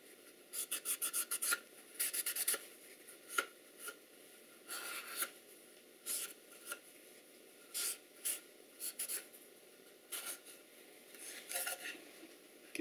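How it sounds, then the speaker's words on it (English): A cloth wipes residue out of the corners of a pine candle box, producing quiet, close scratchy rubbing bursts in irregular clusters separated by short pauses. "Okay, now we'll wipe that off."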